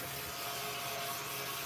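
A small handheld vacuum cleaner runs steadily, sucking up paper fuzz left from cardstock crafting, giving a close, continuous whirring hiss with a rubbing texture and no talk.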